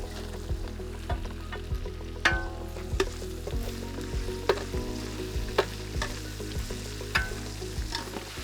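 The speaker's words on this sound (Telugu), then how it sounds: "అల్లం వెల్లుల్లి పేస్ట్ నూనెలో చక్కగా వేగాక దీంట్లోనే మనం పచ్చిమిర్చి కూడా యాడ్ చేద్దాం." Green chillies hit hot oil with ginger-garlic paste for restaurant-style veg pulao, giving a steady close sizzle with repeated sharp stirring clacks of a spoon against the pan.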